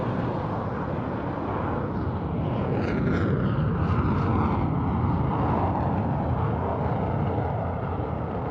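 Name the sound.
Eurofighter Typhoon jet flying at an air show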